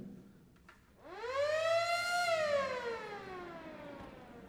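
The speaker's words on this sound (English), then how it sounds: "and then my personal favorite, the air raid siren." An air raid siren winds up from silence, its wailing tone rising to a loud peak and then slowly sagging in pitch, heard alone and close.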